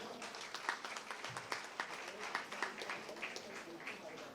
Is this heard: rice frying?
no